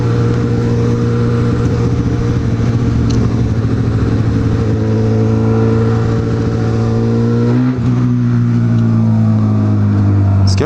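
A car engine runs loudly nearby on the road while a CB1000R motorcycle passes it, with a sustained droning tone that shifts in pitch partway through under steady wind noise.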